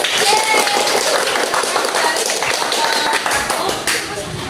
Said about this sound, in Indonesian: beri aplaus untuk temannya yang sudah maju